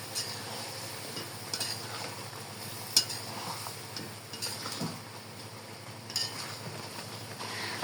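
Potatoes going into a pot of mutton biryani, with a steady low sizzle of frying and occasional scrapes and clinks of a spoon stirring against the pot, fairly quiet and close.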